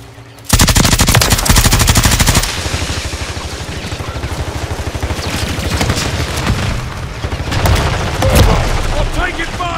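Rapid machine gun fire from a Mk 46 Mod 0 in Modern Warfare 3 multiplayer on the map Dust to Dust, loud sustained bursts with booms and overlapping gunfire, while game voice lines call out under the shooting.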